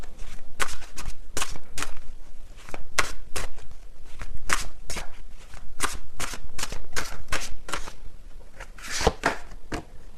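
Cards for a tarot reading being shuffled repeatedly, a loud, close riffling and slapping in quick bursts that continue nonstop.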